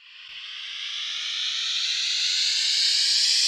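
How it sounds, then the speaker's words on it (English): Riser transition effect built in Serum, a bright noisy whoosh that climbs steadily in pitch and loudness over a few seconds, smooth and alone. "that is starting to sound like a very cool transition effect"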